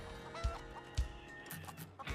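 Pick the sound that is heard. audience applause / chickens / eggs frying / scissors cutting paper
chickens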